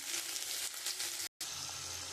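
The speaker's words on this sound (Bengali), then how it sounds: "আমি ওর মধ্যে এই আদা বাটাটা দিয়ে দিচ্ছি।" Ginger paste sizzling in hot oil seasoned with a dried red chilli, bay leaf and cumin seeds for a fish curry with pointed gourd, a steady bright hiss broken by a brief cut of silence.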